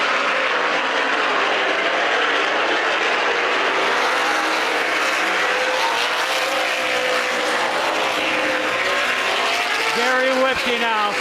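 Race cars circling a track, a continuous loud roar of engines sweeping by, with a race announcer calling positions over it.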